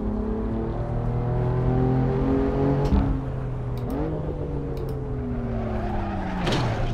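A 750 hp 2016 Lamborghini Aventador SV engine revs and accelerates on the move, its steady loud harmonic drone climbing in pitch with two brief gear-change dips partway through, close and continuous with no talking.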